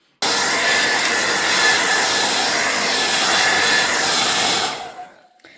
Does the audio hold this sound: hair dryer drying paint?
yes